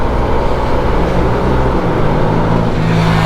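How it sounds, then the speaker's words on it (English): A big motorcycle passes on a valley road during a ride on a SYM 125cc scooter; a loud, continuous engine roar and wind rumble dominate close to the rider throughout. "A big bike has passed me."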